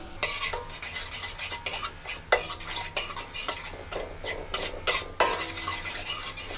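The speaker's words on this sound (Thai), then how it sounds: "ผัดกระเทียมให้หอมครับ" Garlic stir-fried in oil over fairly high heat for pad see ew, a spatula clattering and scraping against the pan in quick irregular strokes over a soft background sizzle, close up with no talk.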